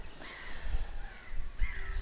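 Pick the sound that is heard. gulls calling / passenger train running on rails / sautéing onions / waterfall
gulls calling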